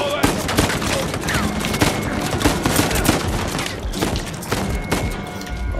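Blind-fire gunfire in the video game Uncharted 4 comes as dense, rapid volleys of shots with thuds and crashing impacts, loud and continuous throughout.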